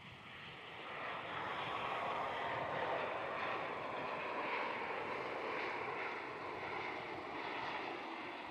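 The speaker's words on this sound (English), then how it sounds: "Virgin 737 short finals there on runway 34." A Virgin Boeing 737 airliner on short final approach to runway 34 at Melbourne Airport: a steady, broad jet engine roar at moderate distance that swells slightly and holds, with no speech.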